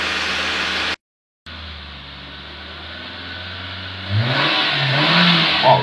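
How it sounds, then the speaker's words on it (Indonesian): A Nissan car engine during a tune-up, revving with the throttle worked toward high RPM; a steady close engine drone cuts out briefly, then resumes and swells louder as the revs climb near the end. "Lalu kita lanjutkan untuk memainkan gas mobil ke RPM tinggi"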